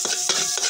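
Sisig with ginger being stirred in a hot pan, three distinct scraping strokes over a steady sizzle, close and fairly loud.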